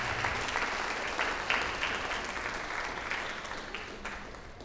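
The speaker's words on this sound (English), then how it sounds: "Ladies and gentlemen, let's give a round of applause to Tess Gabisan Patricio." Audience applause at a Philippine Weekend Mr/Miss coronation ball, a full room of hands clapping steadily and loudly, easing off slightly toward the end with no voices over it.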